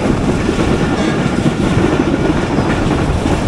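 A train rumbles past at Rohri station in Pakistan, a loud, steady, close roar of wheels and carriages that holds for the whole moment without easing, with no voices.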